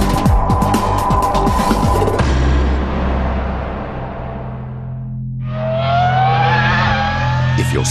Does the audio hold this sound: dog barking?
no